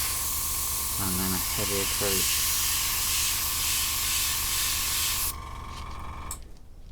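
A spray paint can hisses in a long continuous burst over N gauge model railway track, loud and close, with a voice briefly talking over it before the spray cuts off.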